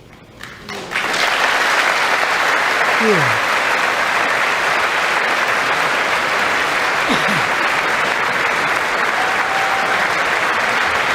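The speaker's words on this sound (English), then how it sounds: "All the standing and clapping they have to do." A State of the Union audience on its feet breaks into sustained, loud applause: dense, even clapping that swells quickly and carries on without a break. A brief voice sounds at the start.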